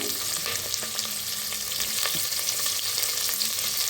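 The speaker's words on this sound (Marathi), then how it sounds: "बटाटो भाजून घेऊया आता" Cauliflower, potatoes and carrots frying in a pan for gobi pulao, a dense continuous sizzle with occasional soft stirring scrapes, close and steady.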